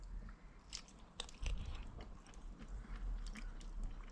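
Close-up chewing of crispy fried liver, with crunchy bites and moist chewing at an irregular rhythm and no talk.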